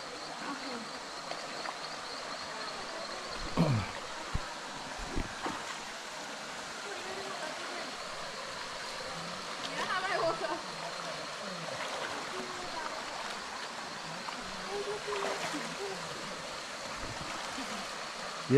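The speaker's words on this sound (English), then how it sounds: "the waterfall is not a big waterfall. It's just, I really wouldn't say that waterfall. It's just like a water slide." Water pours down a small, slide-like waterfall in a steady, continuous rush, with occasional knocks and faint movement nearby.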